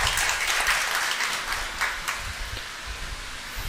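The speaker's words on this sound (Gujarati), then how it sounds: "ત્રિવેદી પરિવાર તાળીઓથી સ્વાગત કરે." Applause from a family gathering welcoming guests from the Tirupati Balaji temple, a dense even patter of many hands clapping close by, fading slightly toward the end.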